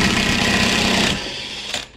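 A power tool removes a big bolt during CV joint and clutch work on a 2009 Honda Accord Euro CU2, a loud, steady, close whir for about a second before it winds down with a brief final burst.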